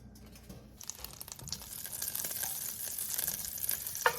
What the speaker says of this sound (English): All right, so our butter is melting.